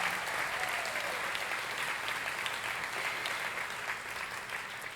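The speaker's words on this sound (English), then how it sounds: "Round of applause for them, please." An audience at a campaign kickoff celebration applauds in a museum building, a dense, steady wash of clapping from many hands lasting the whole time and fading slightly at the end.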